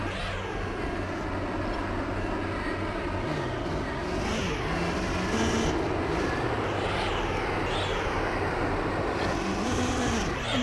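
Race cars heard from a distance, their engines a continuous blended roar that swells and fades as they pass, with no talking.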